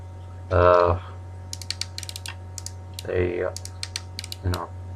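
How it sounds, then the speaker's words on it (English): Ratchet joints on a Transformers Dark of the Moon Sentinel Prime figure click in quick bursts of sharp plastic ticks as the legs are moved, with short stretches of someone talking in between. "That's on a ratchet joint both ways, in and out, forward and back."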